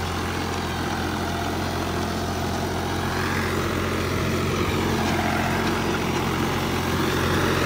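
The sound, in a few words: New Holland 5500 tractor engine running with rotavator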